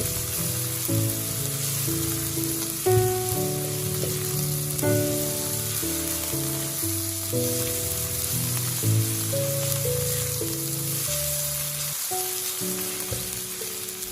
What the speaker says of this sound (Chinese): 接着翻炒，炒出酱香味，炒出豆瓣酱里面的红油